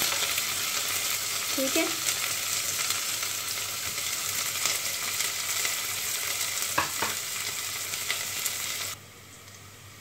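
Onions sizzling steadily in hot oil for a beef and potato curry, a continuous broadband fry with a few stirring clinks, then the sizzle drops sharply near the end.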